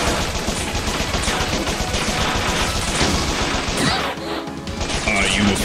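Rapid gunfire and crashing impacts from the video game Bot Vice, dense and continuous throughout, with a brief dip near the end before the shooting resumes, layered under game voices.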